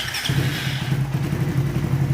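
A motorcycle fitted with an Astec power-up unit cranks and catches, settling straight into a steady, close idle with a low rumbling pulse.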